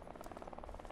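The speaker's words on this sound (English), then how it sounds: "Oh my god, there's a chopper." A helicopter in the survival shooter game Deadside, its rotor producing a rapid rhythmic thudding pulse, faint and distant throughout the short moment.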